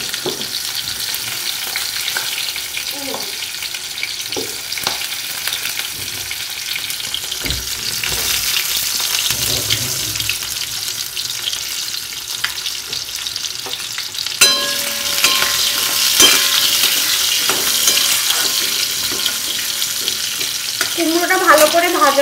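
Pumpkin pieces frying in a pan for a Bengali hilsa fish curry, a steady broadband sizzle running throughout with occasional scraping stirs and a brief watery splash near the end, no talk.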